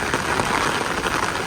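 Steady, even patter of rain falling throughout, like drops drumming on a tent or shelter roof, dense and continuous with no pauses and no voices.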